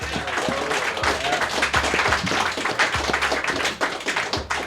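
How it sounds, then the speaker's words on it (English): An audience at a comedy roast podcast taping claps for the judges table, with distinct close hand claps rising and falling in a lively, uneven patter. "Clap it up for your judges table, guys."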